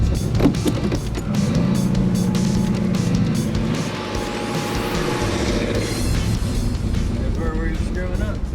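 A 1967 Chevy Nova, nicknamed Casper, driving with a steady loud engine and road drone throughout, people talking over the running car.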